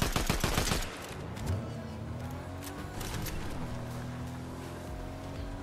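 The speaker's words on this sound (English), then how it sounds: "It's a real player just shooting my AI" Rapid gunfire bursts in a battle royale game, loud and dense at the start and then fading to scattered distant shots over a low droning background.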